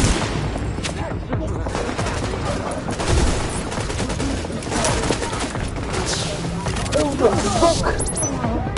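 Rapid automatic gunfire and bursts of shooting from the video game The Division, dense and continuous throughout, with someone talking over the shots.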